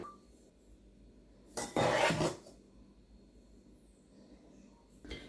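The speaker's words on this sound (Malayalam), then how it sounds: "ഇനി നമുക്ക് ഇതിലേക്ക് കുറേശ്ശെ ഇട്ടിട്ട് ഒന്ന് അരിച്ചെടുക്കാം." Tea powder mixture being strained through a sieve into a bowl, with one brief burst of metallic rubbing and scraping close up, set against quiet kitchen background and a faint clink at the end.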